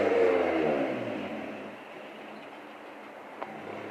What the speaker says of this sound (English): I got my loud car. Let everybody hear my loud car.